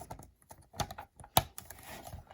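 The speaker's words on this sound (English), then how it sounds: "And click. Brush saw is installed." Small plastic clicks and taps as a plastic brush saw attachment snaps into place on a Bobcat construction toy, a few sharp close snaps among quieter handling rattles.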